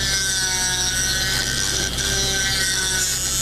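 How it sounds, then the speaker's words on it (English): A small Dremel abrasive bit scores the inside of a hole while making a hand mirror, giving a steady, loud high whine with a gritty rasp that holds on throughout with no talking. "To score the inside of the hole, I use this little abrasive bit that I bought from Dremel."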